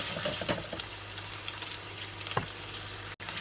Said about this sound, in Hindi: मैं अब चिकन में अदरक और लहसुन डाल के इसको भून रही हूँ